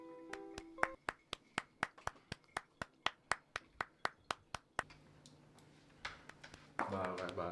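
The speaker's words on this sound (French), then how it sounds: "il ne peut s'empêcher de claquer des fesses de manière aléatoire" A comedic buttock-clapping effect: a rapid, evenly spaced series of about twenty sharp slaps, close and loud, followed by a steadier musical tone.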